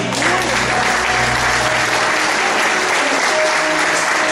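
Loud, dense applause from a large crowd, steady and sustained throughout with no pauses.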